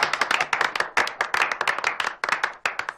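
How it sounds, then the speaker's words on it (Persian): Audience applause from a studio crowd during a Persian TV comedy series, dense overlapping hand claps continuing steadily and loudly for the whole stretch. "خواهش میکنم من رو تشویق بفرمایید"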